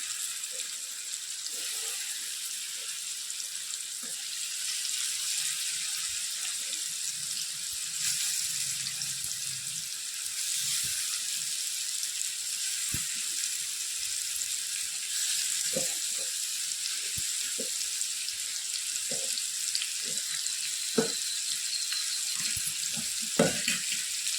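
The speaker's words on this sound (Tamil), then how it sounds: "இப்போ அதில் மசாலா போட்ட எறாவை வைக்கிறேன்" Masala-coated prawns fry in oil on a dosa griddle, giving a steady, moderate sizzle throughout. Occasional soft taps and clicks from utensils come through, with no speech.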